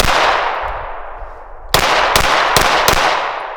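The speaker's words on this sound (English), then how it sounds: "Let's put some more rounds down there." A Smith & Wesson M&P 9 handgun fires a string of about four sharp, loud shots in quick succession, following a long fading echo from an earlier round.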